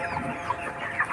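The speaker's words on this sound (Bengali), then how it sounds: "এটা হলো কোম্পানি মুরগি" Chickens on a broiler poultry farm, soft scattered clucks at a short distance over a low steady hum, brief and fairly quiet with no talk.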